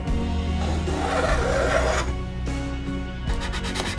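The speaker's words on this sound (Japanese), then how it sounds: "ベースの部分をブロックプレーンで面取りしておきます" Repeated rasping strokes as a block plane chamfers the edge of a wooden base for a DIY controller rack, a steady scraping that shifts in tone, with a short pause near the end.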